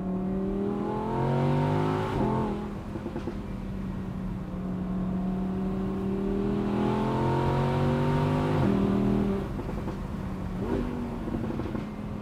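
An Audi R8 V10 convertible accelerates hard, its engine climbing in pitch through repeated rising sweeps with quick gear changes between them. The sound is loud and close, with no talk over it.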